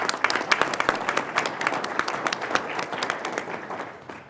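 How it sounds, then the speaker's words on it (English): Audience applause for award winners at a university Board of Trustees meeting, a mid-sized room of people clapping in dense, steady overlapping claps with a few sharper individual hits standing out. "Can we give them a round of applause?"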